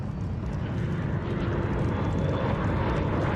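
Steady, loud rotor-and-engine roar of firefighting helicopters overhead at a wildfire, a continuous low rumble with broadband wash, no voices.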